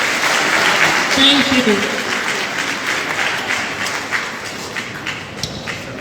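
Audience applause at a formal launch event in Liberia, a dense wash of clapping from a seated crowd that fades gradually, with a short spoken thanks near the start.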